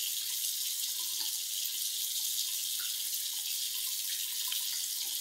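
Running water pours steadily from a bathroom sink tap while someone washes their face after lathering a cleanser, a continuous soft hiss with faint splashes and drips, no talking.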